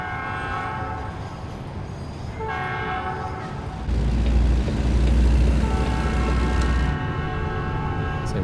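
Train horn in American Truck Simulator, heard from a truck cab near a rail crossing on a Louisiana bayou route: a long sustained multi-tone blast, sounded twice with a short gap, loud over steady engine rumble.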